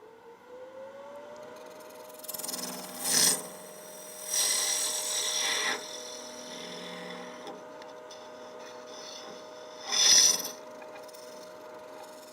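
Carbide tool cutting a laminated paper blank spinning on a lathe, a steady motor hum under several brief scraping, rasping cuts that come in separated bursts.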